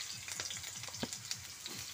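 Cut potatoes fry in oil over cumin seeds, a soft, steady, close sizzle with small crackles and faint pops running the whole time.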